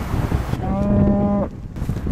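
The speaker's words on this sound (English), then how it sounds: "Sassy cow." A cow moos once in a long, drawn-out low call with clear harmonic tones, close and loud over a rumbling outdoor background heard from a car while driving.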